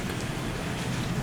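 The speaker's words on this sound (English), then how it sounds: "This rain you hear now was going on then." Steady rain falls throughout, a dense, even wash of drops at a constant moderate level with no voices and no break in the patter.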